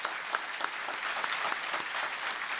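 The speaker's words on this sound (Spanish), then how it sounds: "Demos un fuerte aplauso al pastor Medardo Gómez." An audience at a theological debate on the Eucharist applauds a pastor, dense continuous clapping throughout from a sizeable crowd, close and even.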